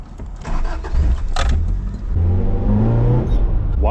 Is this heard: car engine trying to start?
yes